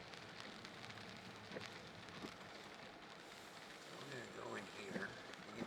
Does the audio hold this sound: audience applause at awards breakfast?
no